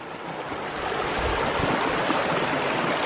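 A small stream flows through snowy ground beside a large snow-covered boulder, a loud, close, continuous rushing gurgle with no voices.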